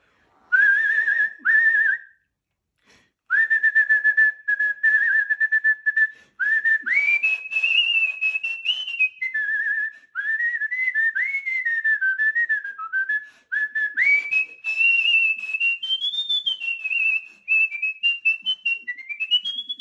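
A singer whistles a theme tune, a clear, close solo melody of sustained and gliding notes in phrases separated by short breaths, with no talking.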